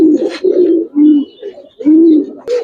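Giribaz and colouring pigeons at a farm coo loudly and close up in repeated throaty, rolling phrases, a few soft wing or cage sounds between them.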